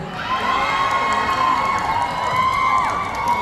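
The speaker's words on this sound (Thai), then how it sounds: "ขอเสียงแฟนคลับพี่ฟอร์มหน่อยดังๆเลยได้ไหมฮะ" A loud crowd of fans cheering and screaming together, high-pitched and sustained, with overlapping shouts throughout.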